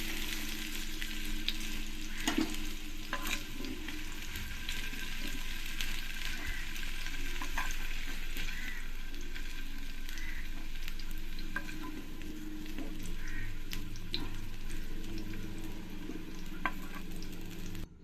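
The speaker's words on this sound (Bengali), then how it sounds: "এই আলুগুলো আমি লাল লাল করে ভেজে নিয়েছি" Potatoes frying in oil in a Bengali kitchen, a steady, dense sizzle close by that runs unbroken, with scattered small pops and crackles throughout.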